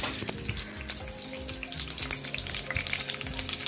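Mustard seeds and three chillies splutter and crackle in hot oil for a traditional sweet-and-sour panchamrut tempering, with dense irregular pops and a steady sizzle close by, and no talk.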